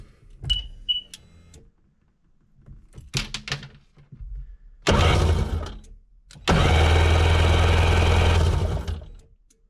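A 2003 Sea-Doo GTI jet ski engine cranks in short bursts after a few clicks and knocks, then starts and runs in a loud, steady drone close by.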